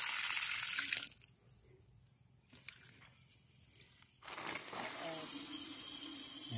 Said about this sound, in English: I'll pour a little bit of this water out.